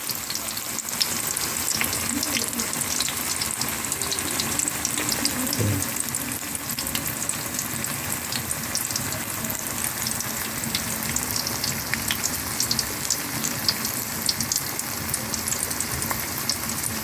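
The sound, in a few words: tofu (tokwa) frying in a pan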